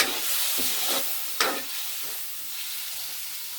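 Chicken sautéing with onion and garlic in a pan, a close, steady sizzle broken by a few sharp scraping stirs of the spoon, no voices.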